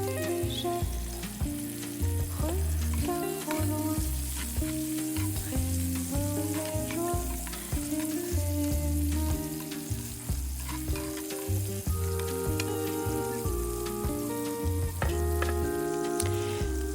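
Beef patties sizzle and fry steadily in a pan, a constant close crackle with soft clinks and stirring noises, while quiet background music plays underneath, with no talk.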